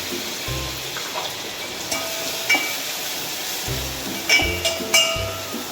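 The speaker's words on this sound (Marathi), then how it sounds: "आता आपण त्या फोडणीमध्ये वाटलेला मसाला घालून घेणार आहोत।" Ground masala hits hot tempering oil in a pan for a buttermilk kadhi and crackles into a steady sizzle, with a few sharp clinks of a spoon against metal breaking through the hiss.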